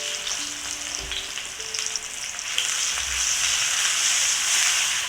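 Onion, hot pepper and curry powder fry in a hot pot for a coconut fish curry, producing a close, continuous sizzle that swells louder partway through, with a few light clinks early on.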